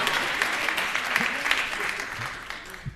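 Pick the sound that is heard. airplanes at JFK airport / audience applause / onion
audience applause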